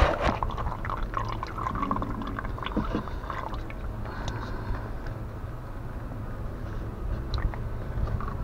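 Engine oil draining from an Audi A3 2.0 TDI into a basin, a faint continuous trickle with scattered drips and small splashes, quiet and close throughout.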